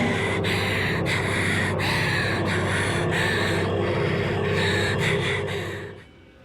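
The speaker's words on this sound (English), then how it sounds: "the constant ASMR of breathing, grunting, and groaning made me feel like I was being assaulted" Heavy close breathing, gasps and grunting from a pilot character in the mecha game Project Nimbus, a continuous loud breathy layer that fades out at the end.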